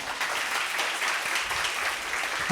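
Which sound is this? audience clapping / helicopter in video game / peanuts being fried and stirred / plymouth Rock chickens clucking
audience clapping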